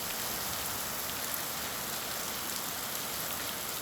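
Heavy torrential rain falls over Islamabad and Rawalpindi, a loud, dense, unbroken hiss of downpour with no letup.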